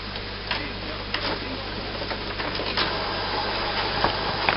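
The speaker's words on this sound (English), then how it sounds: "The printer is now going through its setup procedure." An HP inkjet printer with an ink system fitted runs its setup routine. There is a constant mechanical hum and whir, with faint irregular ticks and clicks as the print head moves, and no talking.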